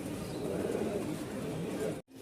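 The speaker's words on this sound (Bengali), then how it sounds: "অবশেষে আমাদের রাজশাহীর লাল সুন্দরী কবুতর চলে এসেছে" Rajshahi red Giribaj pigeons coo at a pigeon market in Mirpur-1, Dhaka; soft cooing blends into dense steady crowd noise that cuts off abruptly near the end.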